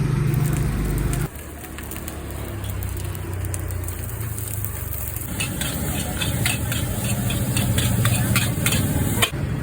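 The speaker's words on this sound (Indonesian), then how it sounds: "Ini nasi goreng kita yang sedang dibuat." Nasi goreng being stir-fried in a wok at a busy fried rice and noodle stall, with steady scraping and stirring, a constant sizzle and a bright metallic clatter of the spatula building toward the end.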